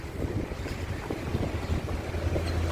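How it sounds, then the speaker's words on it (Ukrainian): Strong gusty wind in Odesa buffets the microphone in low, rumbling bursts, loud and continuous with no speech. "Боже вітер."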